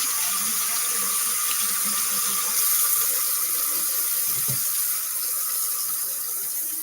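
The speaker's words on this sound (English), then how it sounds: "All right, let me wash my hands." Kitchen tap water runs steadily into a sink during handwashing, a close, continuous hiss and splash with a brief louder gush partway through, no one talking.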